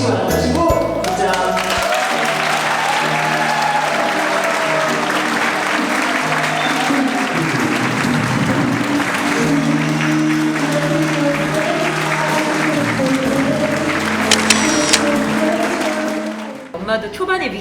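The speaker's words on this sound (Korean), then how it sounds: "신부를 힘찬 박수로 환영해 주시기 바랍니다" Loud, sustained applause from a large crowd welcoming the bride at a wedding fills the room almost continuously, with cheers and a few voices mixed in before it fades at the end.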